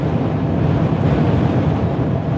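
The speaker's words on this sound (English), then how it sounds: "this is technically gale force winds and almost tornado force wind gusts" Gale-force wind gusts blast across open ground in North Dakota, a loud, continuous roaring rush that buffets the microphone with heavy low rumble and no letup.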